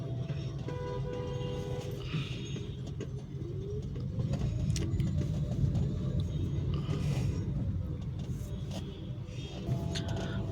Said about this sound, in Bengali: গাড়িগুলো আস্তে আস্তে সামনে যাচ্ছে